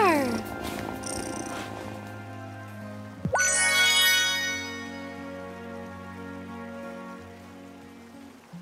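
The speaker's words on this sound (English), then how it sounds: "Listen to that purr." A soft, steady purr of a cat in a video game runs under a voice talking, with chiming synthetic tones and a swooping effect sound layered on top.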